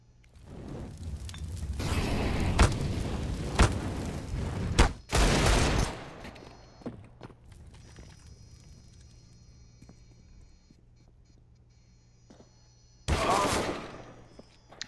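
Gunfire in a CS:GO match on Mirage: clustered bursts of rapid shots early on, a loud sharp volley near the middle, quieter stretches, then another burst at the end, with faint commentary underneath.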